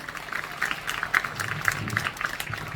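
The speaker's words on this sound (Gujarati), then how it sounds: "આપણે જોરદાર તાળીઓથી વધાવીએ" An audience applauds to welcome a speaker at an opening program for a prasadalay (dining hall) at a school, with a run of quick, fairly close claps that rise and fall throughout.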